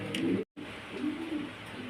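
A pair of Maltese pigeons at a farm coo in low, soft, throaty murmurs, close and continuous apart from one brief break.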